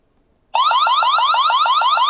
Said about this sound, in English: And then there's an intruder alarm.